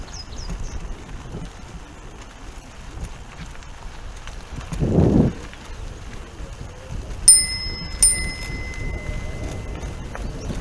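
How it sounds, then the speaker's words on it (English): A bicycle bell on a recumbent bike ride rings twice in quick succession, bright and close, over soft outdoor wind and road noise. "We ring the bell in blind corners so people know we're coming down."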